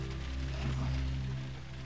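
Steady rain in the video game The Last of Us Remastered, a soft continuous hiss of falling water over a low ambient hum, with no voices.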